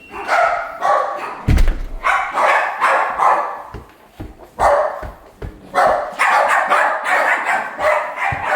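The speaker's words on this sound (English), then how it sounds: "dogs are in here barking" Several small schnauzers bark indoors in rapid, overlapping bursts close by, with a sharp thump partway through and short pauses between volleys.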